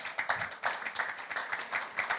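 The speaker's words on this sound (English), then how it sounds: "can I get a big round of applause for MRT Jakarta?" A crowd claps in steady applause at a transit-oriented development forum in Jakarta, many hands at once with rhythmic bursts, moderately loud and continuous throughout.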